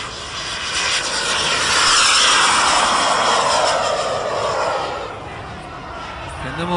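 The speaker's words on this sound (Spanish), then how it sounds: "Está ganando un Viper con motor Cheetah." A Viper Jet MK2 radio-controlled jet with a Cheetah turbine engine flies past at an airfield, a loud continuous turbine roar and whine swelling to a peak and then fading.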